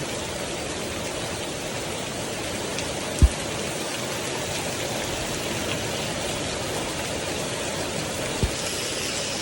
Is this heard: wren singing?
no